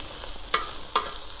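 Pork cracklings and potatoes sizzle in a harrow-disc frying pan outdoors, a steady hiss broken by a few sharp clinks of stirring against the metal.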